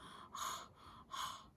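A voice imitates an aeroplane panting, giving two breathy, hissing gasps in a slow rhythm, soft and close.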